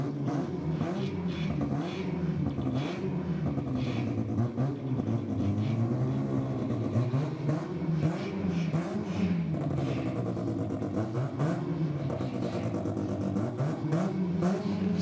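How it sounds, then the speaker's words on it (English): A rotary-engine race car accelerates down a drag strip, its buzzing, wavering engine note rising and falling continuously at a moderate distance for the full stretch, with no voices over it. "You can definitely hear a rotary."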